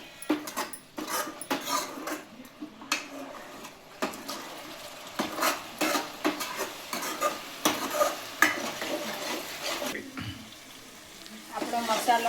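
A spoon stirring spice masala with curd in a pan for a mutton dish, steady scraping strokes over a low sizzle of frying, repeated rhythmically and close, with a voice speaking over it at times.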